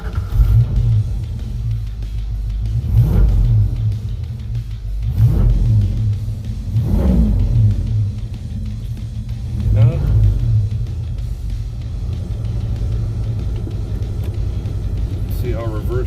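A 1986 Ford Mustang LX Foxbody engine rumbles steadily at low pitch with several swelling revs, close and loud, while someone talks over it.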